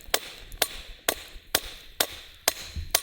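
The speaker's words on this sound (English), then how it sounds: "So I'm just hammering that bevel in." A hammer strikes a forged blade to set its bevel at a winter camp, seven sharp, loud, evenly spaced metallic blows about half a second apart, with no talking.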